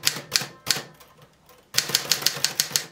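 Manual typewriter keys, on a Torpedo 18B or Alpina SK24, strike in sharp close snaps: a few spaced hits, a pause, then a fast even run of about eight loud clacks.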